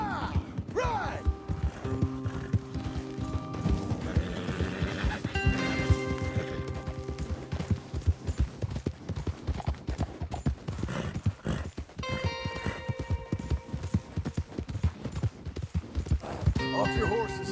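Horses gallop in the video game Red Dead Redemption 2, their steady hoofbeats pounding close and continuous under spoken dialogue and a musical score, with an occasional whinny.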